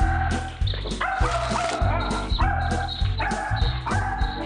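A dog barks repeatedly at a duck, in loud, uneven bursts of yips and bow-wows over steady background noise.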